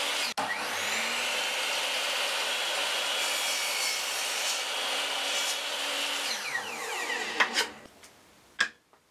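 A miter saw trims a piece of wood for a curved-front wooden box, a loud continuous whining cut of about seven seconds that winds down, followed by a couple of sharp knocks.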